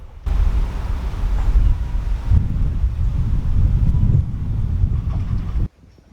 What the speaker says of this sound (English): It's always windy when we cruise.